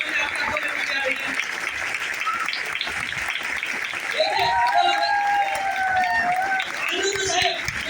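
Dense, sustained audience applause fills a business-plan event hall in Thane, Maharashtra, with steady clapping under crowd chatter and voices talking throughout.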